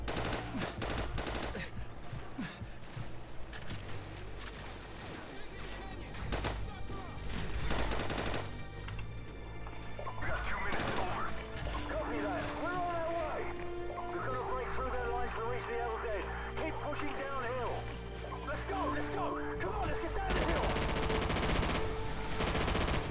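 Gunfire from Call of Duty 4: Modern Warfare, rapid bursts of shots running through most of the stretch over a dense game soundtrack, with someone talking and laughing over it.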